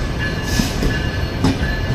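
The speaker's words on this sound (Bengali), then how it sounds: "এতক্ষণে প্রবেশ করলো বনলতা এক্সপ্রেস।" Banalata Express train rolling into a railway station in Bangladesh, a steady rumble of wheels with brief squeals and clatter, fairly close and heard alone without voices.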